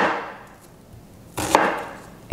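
One crisp knife cut through a vegetable lands on a cutting board, a single close, firm chop after a faint fading tail, with no talk.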